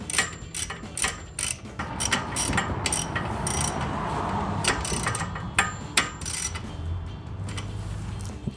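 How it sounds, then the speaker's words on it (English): A socket wrench with an 18mm socket works a steering damper bolt on a Jeep Gladiator JT. Close, steady ratcheting clicks come in quick bursts over a busy mechanical background. "We'll tighten back down using our 18mm socket wrench."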